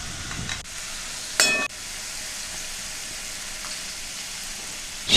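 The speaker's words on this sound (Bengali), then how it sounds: "ভালো করে নেড়ে নিচ্ছি।" Fish curry with turmeric fries in a pan, giving a steady, close sizzle, broken by a sharp scrape and clink as a spoon stirs it.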